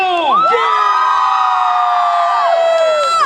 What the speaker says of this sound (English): let's hear the loudest cheers from each house